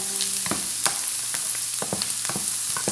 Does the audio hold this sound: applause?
no